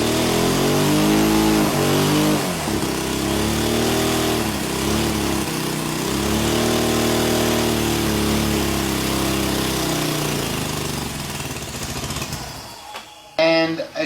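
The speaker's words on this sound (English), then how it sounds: "The engine obviously makes boost." A turbocharged nitro-fuelled engine runs loudly and steadily, its pitch rising and falling as it revs through several swells, making a few pounds of boost and running wet, before cutting out near the end.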